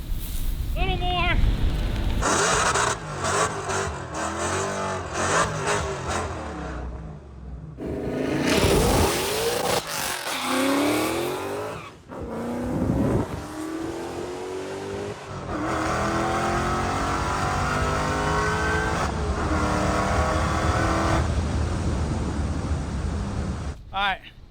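A manual Dodge Demon on nitrous with new tires launches hard with spinning tires: loud engine revs, a roaring take-off and tire squeal in repeated surges, close by.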